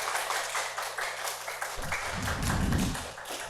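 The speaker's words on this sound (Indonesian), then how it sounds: "Terima kasih, tepuk tangan semuanya." Children clapping in a classroom, irregular and slightly muffled, swelling in the second half.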